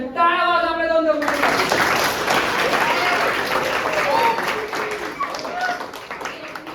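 School students at a drone technology session break into applause, a brisk clatter of many hands that follows a brief tonal voice at the start and fades slightly, with some voices mixed in.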